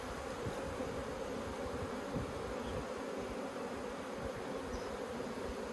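Honeybees hum in a steady, dense buzz throughout an open-hive inspection, a continuous drone that stays close and even in level, with no voices.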